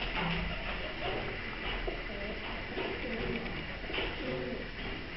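Soft, low pigeon coos repeat at a relaxed pace against a steady background hum, a bit distant and muffled, at Soroca Fortress.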